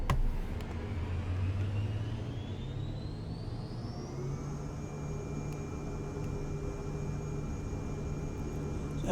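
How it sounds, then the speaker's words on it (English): Aircraft taking off in Microsoft Flight Simulator 2024, engine drone rising steadily in pitch as it spools up and accelerates, then holding a constant whine, with a low rumble underneath and no voices. "Now let's take off."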